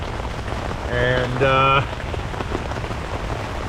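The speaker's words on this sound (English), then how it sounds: "I was obviously planning on waking up to rain" Rain patters on a tarp at an urban campsite in a dense, close hiss, with a voice speaking briefly over it partway through.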